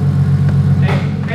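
A boosted car with a freshly installed exhaust holds a loud, steady low engine drone up close. Near the end, brief bursts of rising noise join it.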